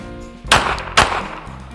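Two sharp, loud pistol shots about half a second apart during concealed carry training on a range, each with a short ringing tail over quiet background.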